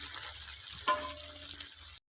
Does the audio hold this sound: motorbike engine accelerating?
no